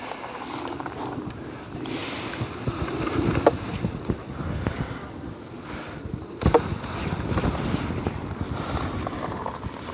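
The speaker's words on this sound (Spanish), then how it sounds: "Hay mucho viento." Strong outdoor wind beside beehives, a continuous rough rumble with gusts buffeting the microphone and a few louder bursts.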